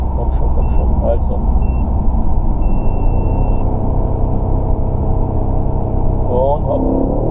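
A 2017 BMW M550i G30 pulls hard under acceleration, its engine a loud, steady close rumble heard from inside the cabin while someone talks over it.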